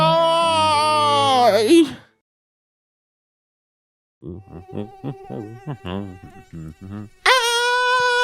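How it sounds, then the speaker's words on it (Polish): A high, whining buzz like a mosquito sounds loud and close, broken by a silent gap and by stretches of speech. "To komar!"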